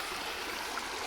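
Water rushing freely again through a channel once beaver-chewed sticks blocking it are cleared, a steady, dense flowing hiss with no pauses.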